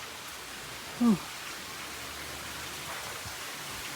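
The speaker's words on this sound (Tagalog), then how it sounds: "Ay, parang umuulan." Light rain falling outdoors at a scenic nature spot in Riyadh, a steady soft hiss throughout, with one brief voice exclamation near the start.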